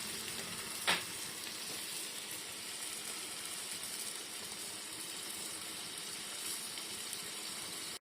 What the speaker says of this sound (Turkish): Zeytinyağında kızaracak bunlar.